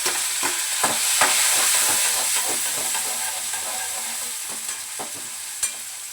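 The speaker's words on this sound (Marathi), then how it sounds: "आणि टमाटा परतून घेते, चांगला परतून घेते." Tomatoes sauté in a pan with a continuous loud sizzle and hiss, punctuated by sharp scraping clicks of a spatula stirring them, easing slightly toward the end.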